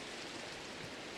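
Rain falls in the video game Minecraft as a steady, even hiss of rainfall that holds throughout a short stretch, fairly loud and with no talking.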